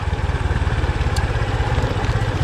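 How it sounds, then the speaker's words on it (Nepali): Motorcycle engine running steadily nearby as the bike rides through a small stream on a village track, a loud pulsing low drone with faint clatter, no talk. "यो सानो धारमा चलाउँछु मैले बाइक"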